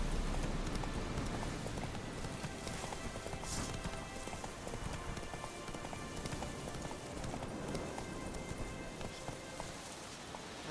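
Roach, the horse in The Witcher 3, gallops through rain, a quiet steady clip-clop of hooves under a constant hiss of falling rain for about ten seconds.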